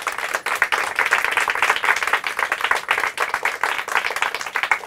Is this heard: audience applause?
yes